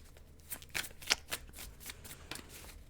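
Tarot cards being shuffled by hand, a close, crisp riffling and sliding that runs steadily throughout with a few sharper snaps.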